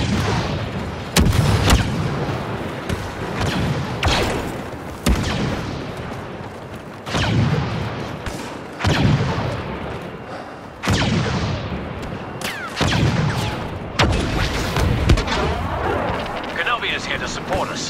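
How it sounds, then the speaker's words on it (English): Heavy cannon fire in the Star Wars Battlefront 2 video game sounds as a series of loud, booming blasts, about eight of them spaced roughly two seconds apart, each decaying into rumble amid continuous battle noise. "Try to get creative with the HCE's heavy cannon."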